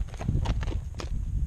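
A horse named Barney shifts about nearby, its hooves landing in several quick, irregular clops on the ground, close and moderately loud.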